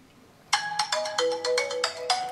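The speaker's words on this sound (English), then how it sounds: "I'm going to see if the phone will ring without the background app running on the iOS devices." A phone on iOS rings with a repeating electronic ringtone, set off by a CUBE Bluetooth tracker; the bright melodic tones start abruptly and repeat steadily, close and clear with no talking.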